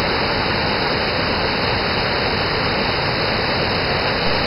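The Cachoeira waterfall in São Thomé das Letras roars in a steady, loud, unbroken rush of falling water that fills the whole clip, with no voices present.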